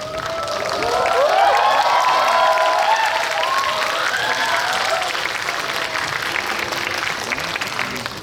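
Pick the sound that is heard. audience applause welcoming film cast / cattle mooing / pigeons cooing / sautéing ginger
audience applause welcoming film cast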